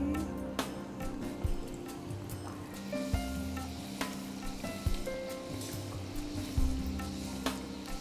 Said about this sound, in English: I'll put them for frying.